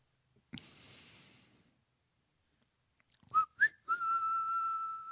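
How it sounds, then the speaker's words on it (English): Short whistled notes near the end: two quick chirps followed by a steady sustained tone, with a breathy noise earlier and quiet gaps between. "Oh, because there was whistling."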